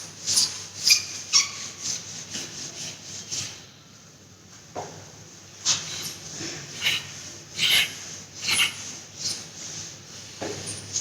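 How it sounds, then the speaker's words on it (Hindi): Writing on a classroom board being rubbed off, a series of scratchy, squeaky strokes in uneven rhythm across the stretch with a brief quiet pause midway, fairly close and without voices. "मैं रब कर रही हूँ।"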